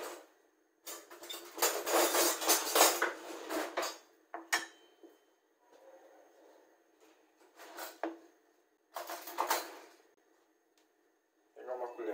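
Pans and kitchen utensils handled while making risotto, a ladle among them, in bursts of metallic clattering, scraping and clinking close by, separated by quiet gaps, with someone talking over parts of it.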